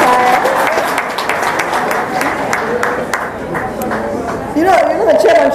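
Crowd applause at a Kenyan KCPE 2018 exam results announcement, a steady wash of many hands clapping mixed with murmuring voices, loud and sustained.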